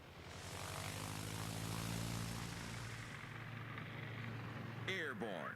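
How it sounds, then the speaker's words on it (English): Propeller engines of torpedo planes in the naval video game World of Warships drone steadily and loudly throughout, a dense airplane roar that holds level across the whole stretch, with a brief sharper sweep near the end. "Here are the torpedo planes."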